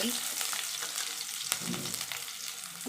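Onions are tossed into a pan of frying potatoes with mustard seeds for a potato stir-fry. A continuous close sizzle is broken by light stirring noises, and no one talks.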